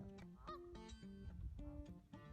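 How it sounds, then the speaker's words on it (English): Canada geese honk repeatedly at a river estuary, a series of loud, nasal calls in quick succession with short gaps, clear and fairly close, with no talking. "apparently the Canadian geese are not too happy with us coming out today."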